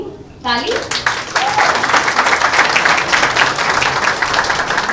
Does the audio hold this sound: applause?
yes